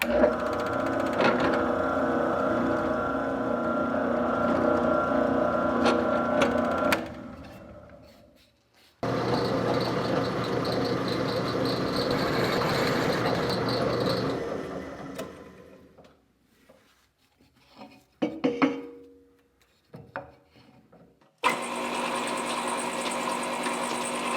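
Drill boring holes through 1-inch-thick plywood, heard as steady bursts of motor whine that stop and restart with quiet gaps between them, fairly close and with no voices.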